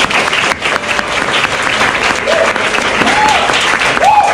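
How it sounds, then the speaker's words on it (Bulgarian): A lecture audience at a public relations talk in Bulgaria breaks into loud, sustained clapping that fills the room evenly for several seconds. "вашите аплодисменти за БДВО"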